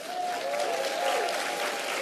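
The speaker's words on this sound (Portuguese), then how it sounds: "Uma salva de palmas para a Bené." An audience gives warm applause for Benedita da Silva at the opening of the G20 Social, a steady wash of clapping from a large crowd with a few whistles and faint cheers.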